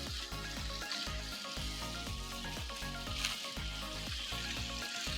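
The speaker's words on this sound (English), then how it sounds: "There's some sizzle." Chicken breast sizzling in a pan, a steady close crackle and hiss of frying that carries on without pause or talk.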